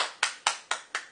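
Four sharp hand claps in an even rhythm, close and fairly loud, with no voices around them.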